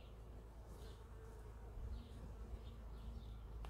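Honey bees buzz around a Warré hive, a faint, steady hum with individual bees droning louder as they pass near, set against a low outdoor background.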